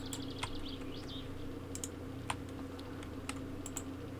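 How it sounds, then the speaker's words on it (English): Sparse computer clicks and taps at a desk, a handful of sharp isolated hits spread over a few seconds against a steady electrical hum, with no talking. "Let me try right-clicking."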